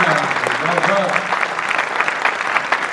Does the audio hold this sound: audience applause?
yes